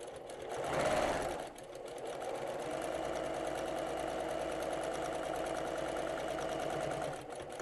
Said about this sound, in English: use your 1/4 inch seam allowance to sew around the curve